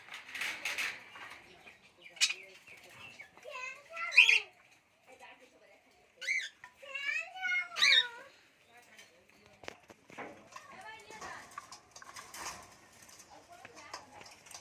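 Cockatiels chirp and whistle in scattered bursts nearby, sharp bright calls with quiet gaps between them.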